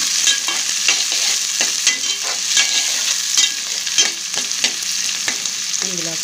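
Onions fry in a pan with a bright, steady sizzle, broken by regular scraping strokes of a stirring spoon heard up close.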